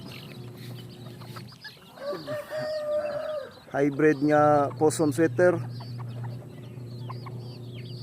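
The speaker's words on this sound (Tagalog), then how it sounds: "Akong giligo ko mga manok ron" Two-month-old chickens cluck and call in a backyard while being bathed, a few louder bursts standing out, while someone talks over them and a low hum runs underneath.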